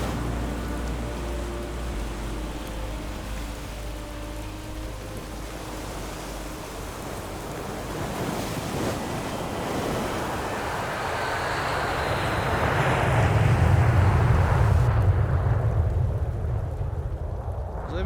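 Heavy rain and a storm at an outdoor festival, a dense steady hiss of downpour that swells louder toward the end, with no voices.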